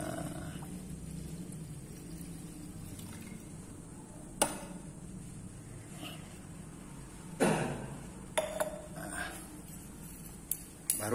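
Aqua regia solution is poured into a glass chemistry beaker to precipitate gold, giving a short, soft pour and splash against a quiet room with a few faint knocks of glassware.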